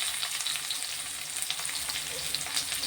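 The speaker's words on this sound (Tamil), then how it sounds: "நல்லா வதக்கிக்கலாம்." Onions sauté in a pan with tempering spices for a beetroot dish, a steady, close, hissing sizzle that stays even throughout with faint stirring, no talk.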